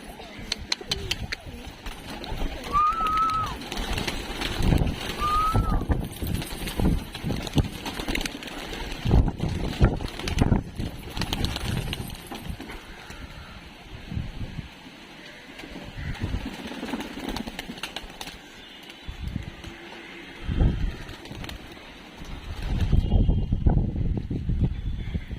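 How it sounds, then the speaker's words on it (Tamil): Pigeons let out of their coop, giving soft coos and wing flutters over a steady low idling engine hum, with people talking intermittently nearby. "ஏன்னா புறாக்குள்ளே வெளியே விடலாம்."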